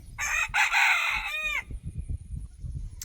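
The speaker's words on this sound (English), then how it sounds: "Now y'all can't stop crowing." A rooster crows once, loud and near, then low rumbling background noise follows.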